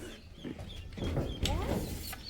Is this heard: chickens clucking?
yes